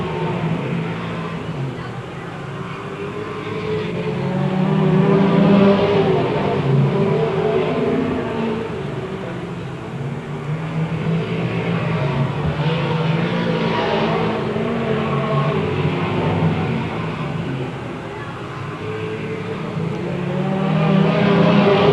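Stock race cars roar around an oval track during a 1993 feature race, engines droning and swelling as packs pass, with a commentator talking over the steady engine noise.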